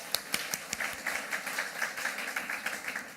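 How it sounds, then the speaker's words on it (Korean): Applause from a church congregation after a choir's hymn at a Korean-language worship service, heard as fairly faint, steady scattered clapping throughout. "성가대 찬양을 받으신 하나님께 다시 한번 큰 박수를 드립니다."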